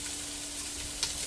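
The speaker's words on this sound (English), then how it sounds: "Give it a mix." Diced onions in olive oil sizzle steadily in a pan as they are stirred, a constant bright hiss with a faint scrape near the end of the short stretch.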